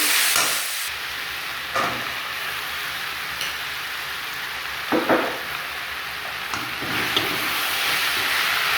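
Ginger garlic paste and carrots sauté in a pan for vegetable kurma, a steady rain-like hiss of frying with occasional louder spatula stirs, close up and without speech.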